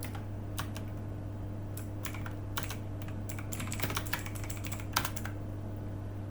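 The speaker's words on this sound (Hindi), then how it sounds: "सबसे पहले सेल A1 में मैं टाइप करता हूं फाइनल रिजल्ट" Typing on a computer keyboard while entering text into an Excel cell, with irregular clusters of close, crisp key clicks over a steady low hum and no talking.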